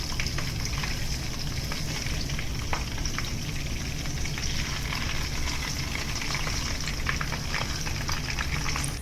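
Chicken donuts fry in oil in a pan while a spoon spreads oil over them, producing a loud, dense, continuous sizzle and crackle that stays steady throughout, close up and without voices.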